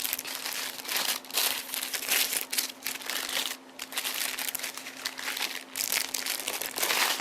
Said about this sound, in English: So I'm going to unwrap it, and we're going to take a look and see what's on this thing,